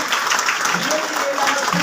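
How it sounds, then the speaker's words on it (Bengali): Audience at a Vestige leaders' gathering clapping together, a steady dense wash of applause with a voice audible faintly over it. "আমি বলবো প্রত্যেকের জন্য একবার জোরে হাততালি হবে।"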